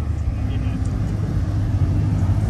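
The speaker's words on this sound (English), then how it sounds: "A GTR pulling in." A Nissan GT-R pulls into a car meet, its engine giving a steady, fairly loud low rumble throughout, with voices and crowd noise mixed in around it.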